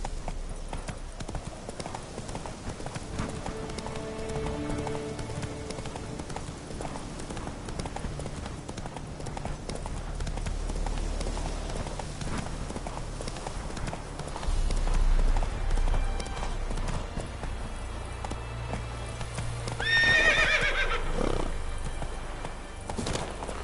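Roach, a horse in The Witcher 3 video game, gallops with rhythmic, continuous hoof clip-clops for over twenty seconds, joined by a brief whinny near the end.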